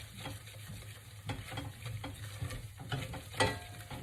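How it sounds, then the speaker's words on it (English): Flour roux for a soufflé cooking in a pan while being stirred, a soft sizzle with scraping strokes of the spoon repeating quickly and close by, no voices. "Make a roux. Just cook that flour out just for a little bit."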